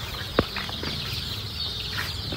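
Small domestic chickens shuffle in a tiny household coop, with one sharp wing flap near the start over a steady, noisy background.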